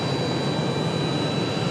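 A PSA airliner departing Raleigh-Durham International Airport, a steady broadband jet roar holding at an even level throughout, with no voices.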